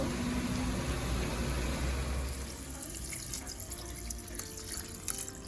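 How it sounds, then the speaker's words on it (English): Steady splashing of water running into a pot of curry mutton before pressure cooking, a continuous pouring rush with faint clinks near the end. "we are going to throw some water in there now and start pressure it"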